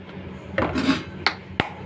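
A metal pot is set on a stove, clanking and scraping on a hard surface, a dull knock followed by two sharp metallic clinks, close by.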